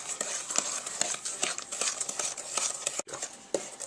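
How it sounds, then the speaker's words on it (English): A whisk beats cookie batter in a mixing bowl with rapid, steady scraping and clicking strokes, close and fairly quiet, with no talking. "Now, I'm whisking it together."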